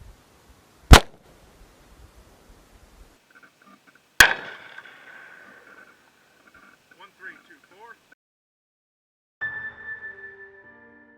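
Handgun shots, including a .44 Magnum, are fired at an outdoor target: two sharp, loud reports a few seconds apart, the second leaving a ringing tail. Quieter scattered sounds follow.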